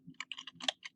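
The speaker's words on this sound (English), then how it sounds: "I'm going to type in" About half a dozen quick, soft keystrokes tap on a computer keyboard in a short, close burst with no talk.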